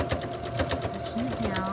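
A sewing machine runs briefly while stitching down sashing on quilt-as-you-go blocks, its close, rapid mechanical hum and patter heard under a speaking voice.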